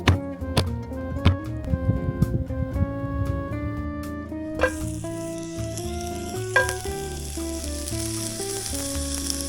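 Food sizzles on a camping burner ringed by a homemade wind shield at a winter campsite in Banff, a steady crackle running under louder background music.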